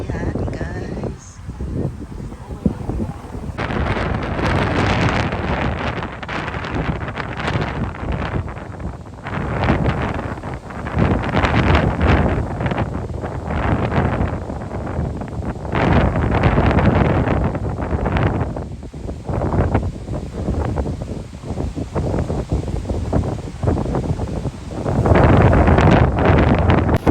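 Strong gusts of wind at a lake buffet the microphone in loud, rumbling bursts that rise and fall throughout, with occasional faint voices underneath.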